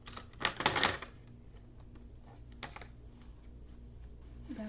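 Pencil drawing loudly on paper for a beach illustration, a burst of sharp scratchy strokes at the start followed by a few lighter isolated scrapes, close and fairly quiet overall.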